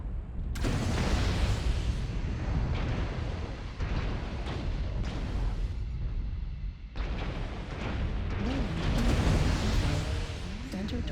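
Missile explosions from the mech combat game Mechwarrior Online, a dense, loud barrage of booms and bursts rolling almost continuously, with a brief lull midway before another heavy volley; a voice talks over the blasts.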